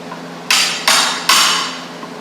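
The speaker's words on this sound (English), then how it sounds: "to remove your old kickback plate, you're going to want to take your hammer and pry bar" A hammer strikes a pry bar while removing an old kickback plate: three sharp metallic blows spaced about 0.4 seconds apart, each ringing briefly before fading, loud and close with no talk.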